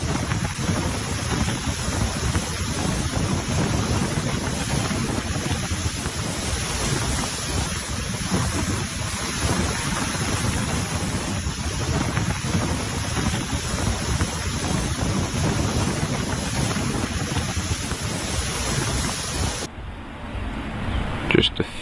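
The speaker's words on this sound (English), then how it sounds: "The wind is so strong it's bending entire trees in one direction." Strong wind strong enough to bend entire trees roars and buffets the microphone in a steady, loud rush for most of the stretch, then drops off sharply near the end.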